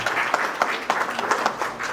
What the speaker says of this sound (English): I'd like a big round of applause for my father